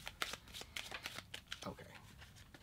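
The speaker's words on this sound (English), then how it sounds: "But if you turn them in for any reason or you play them, they get shuffled." Board game cards being shuffled, a run of quick riffling bursts and flicks at close range.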